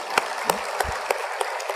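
Congregation in a church clapping hands together in a steady rhythmic beat, about six evenly spaced claps over a broad hum of crowd noise in a reverberant hall.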